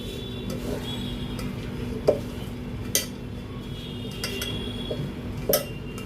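A spoon works ginger, garlic and chilli paste into shredded cabbage in a metal vessel, giving scattered clinks and scraping knocks over a low steady background hum.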